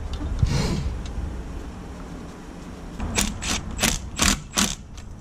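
Ratchet wrench turning an 8mm bolt on the EGR valve of a DAF LF truck, a run of about five quick clicking bursts close by after a stretch of quieter rustling.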